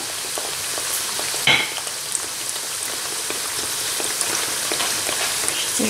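Rghaif dough frying in hot oil while hot oil is spooned over it, a steady close sizzle and crackle with one brief louder clatter partway through, no voices.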